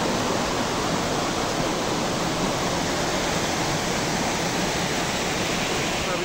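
A waterfall and river pouring beneath a bridge after heavy rain make a loud, constant rushing roar that fills the whole clip, dense and unbroken, with no distinct voices.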